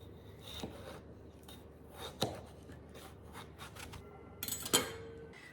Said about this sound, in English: I'm just going to cut these lengthwise